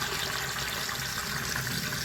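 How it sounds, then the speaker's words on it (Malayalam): Water runs steadily from an opened tap into a freshly cleared kitchen sink, a continuous close rushing hiss that stays even and uninterrupted with no voices. "ഇനി നമുക്കിത് നമ്മുടെ ടാപ്പൊക്കെ തുറന്നു വെക്കാം"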